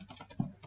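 Quick, light clicks of typing on a computer keyboard while someone codes a ball-and-paddle game. The keystrokes come close together in an uneven rhythm, with one slightly heavier tap in the middle, and no one speaks.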